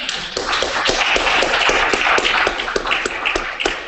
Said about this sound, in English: So let's give him another round of applause and welcome back.